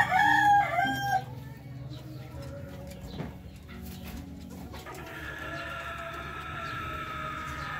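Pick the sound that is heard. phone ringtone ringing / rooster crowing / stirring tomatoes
rooster crowing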